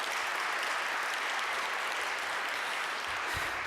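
A lecture audience gives the sponsors a round of applause, steady, full-room clapping that stays dense and even from start to finish without any speech over it.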